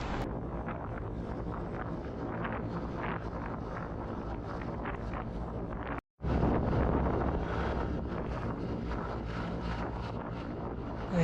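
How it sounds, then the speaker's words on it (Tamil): Strong wind roars continuously across the microphone of a KTM RC 390 motorcycle riding near Yercaud. The blast is loud and steady, cuts out for a split second, then resumes. "அதுக்கே அந்த காற்று அந்த அளவுக்கு வேகமாக அடிக்குது"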